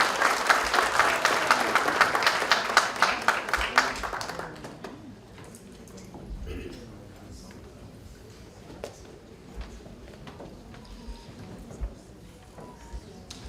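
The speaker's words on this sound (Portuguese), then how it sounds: "Salve de palmas" Audience applause at an economics award ceremony in Minas Gerais, a loud dense burst of clapping for about four seconds that fades into sparse scattered claps, room murmur and shuffling.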